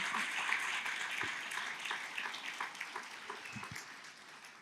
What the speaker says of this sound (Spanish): Dale un fuerte aplauso al Señor y adórale.